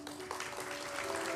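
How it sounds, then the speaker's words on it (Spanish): Crowd applause at a quinceañera birthday party in Lima, Peru, a steady dense clapping that fills the short moment without a break. "fuerte los aplausos, qué bonito"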